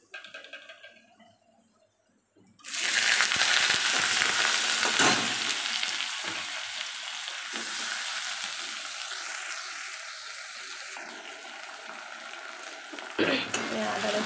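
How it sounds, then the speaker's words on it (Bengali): Onions drop into hot oil spiced with bay leaf, dried chilli and garam masala, bursting into a loud, close, continuous frying sizzle after a quiet start, with occasional stirring scrapes. "এবার পেঁয়াজ দিয়ে দেবো"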